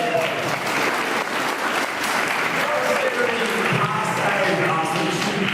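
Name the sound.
audience applause for a young man at a seminar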